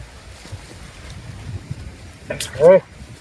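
Wind buffets the microphone on a small fishing boat, a low steady rumble with a brief, louder gust near the end.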